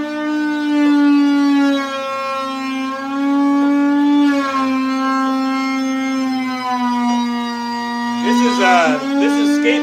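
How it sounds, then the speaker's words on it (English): Close, continuous whine of machinery cutting out skateboards in a board-making workshop: a loud, sustained tone with small pitch dips, then a brief rougher burst near the end. "That sound is skateboards being cut out."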